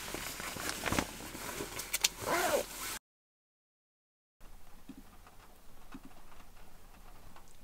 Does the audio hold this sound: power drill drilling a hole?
no